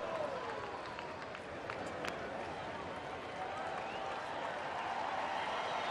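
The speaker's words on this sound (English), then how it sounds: "Crowd here at Coors Field starting to make some noise." Baseball crowd noise rises at Coors Field during a Tigers at Rockies game, a broad steady roar with scattered claps, heard from a distance across the ballpark.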